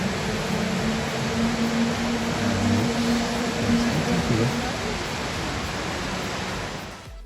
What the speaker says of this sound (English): this is Gorge Creek Waterfall here in North Cascades National Park.